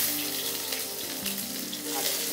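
A chopped medium-sized onion hits hot oil for a chicken curry, giving a loud, dense, continuous sizzle close up with no talk.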